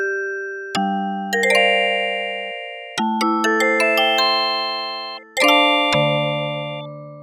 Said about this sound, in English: Sounds pretty much like some form of bell. So let's make a typical bell